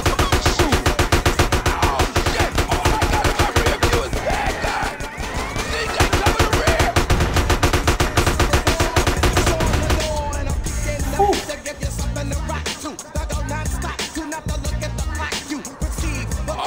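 Dense, rapid gunfire from the video game GTA San Andreas, with machine-gun bursts rattling continuously and loud for most of the stretch before thinning into scattered shots and game noise.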